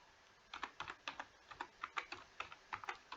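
Typing on a computer keyboard, a quick run of about twenty close, light key clicks in an uneven rhythm, fairly faint with no talking.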